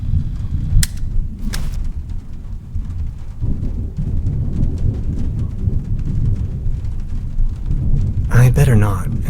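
Low, steady rumble of rain with rolling thunder in the video game Trüberbrook, a few sharp cracks early on and a louder burst near the end, with game-like ambience throughout.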